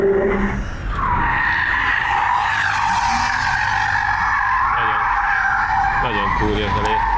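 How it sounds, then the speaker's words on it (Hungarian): A Porsche Taycan Turbo S or tuned Tesla Model 3 Performance sliding sideways on all four wheels through a corner, with a loud sustained tire squeal wavering in pitch over several seconds, close and continuous. "a kormánymozdításra 4 kerékkel átcsúszott az egyenesen keresztbe"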